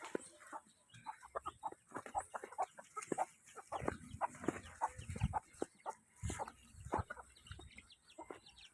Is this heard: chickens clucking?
yes